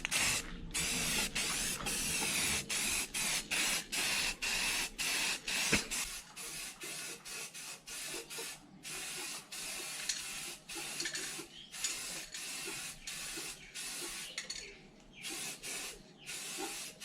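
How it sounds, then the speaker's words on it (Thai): Matte black spray paint hissing from an aerosol can onto a DIY wood-and-steel folding table, in a long run of steady bursts separated by brief gaps, close and without any voices. "จากนั้นก็ว่าจะทำพ่นสีสเปรย์ด้านนะครับเป็นสีดำด้านนะ"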